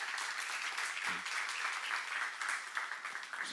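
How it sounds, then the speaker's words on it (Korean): A church congregation at a seminar applauds steadily, a continuous crackle of many hands clapping from a distance, with no voices over it. "아까 본 사람만 박수 하세요"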